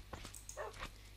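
Dogs bark and yip briefly in the Minecraft video game, a few short sharp calls over a steady low hum, close and moderately loud with no talk.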